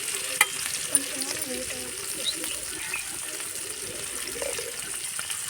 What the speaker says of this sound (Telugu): చిన్న చిన్న ముక్కలు ఇలా ఫ్రై చేసుకుంటే చేప ముక్కలు చాలా టేస్ట్గా వస్తాయి అన్నమాట.